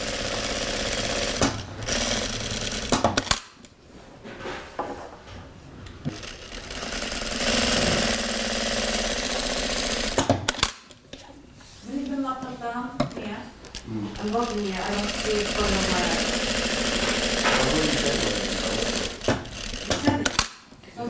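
Industrial sewing machine stitching a straight line on fabric, a loud, rapid mechanical whirring in several long runs separated by short stops, with a voice speaking over part of it.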